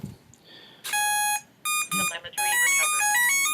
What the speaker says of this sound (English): See the beeps there?